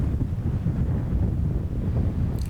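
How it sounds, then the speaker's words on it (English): Steady low wind rumble buffeting the microphone on an outdoor disc golf course during a women's pro tournament round, constant and fairly loud, with no voices. "this wind is not helping at all"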